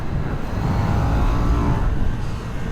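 A KTM 990 RC R motorcycle engine holds a steady loud drone in third gear on a race track, a continuous close roar with no clear gear change across the stretch.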